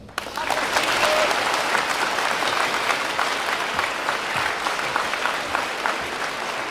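A crowd at a Veterans Day event breaks into sustained applause after a speech, a dense, even wash of clapping that starts abruptly and holds at a steady, fairly loud level for several seconds.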